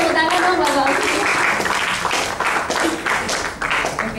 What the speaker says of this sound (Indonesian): Tahu tepuk tangan dong Bapak.